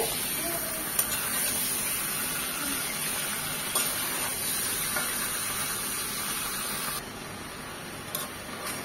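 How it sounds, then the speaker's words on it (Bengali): Chicken pieces fry in hot oil over high heat, making a dense, continuous sizzling hiss close by, with occasional faint clicks of stirring and no speech. "চিকেনগুলোকে এই তেলে একটু ভাজা দিয়ে নেব 2-3 মিনিট।"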